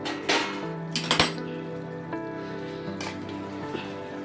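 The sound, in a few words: lid lifted off the mutton curry pot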